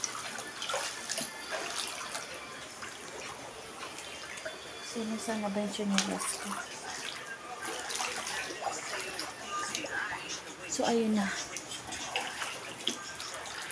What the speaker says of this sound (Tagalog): Mabilis umangat yung tubig.